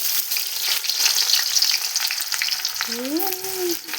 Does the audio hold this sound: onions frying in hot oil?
yes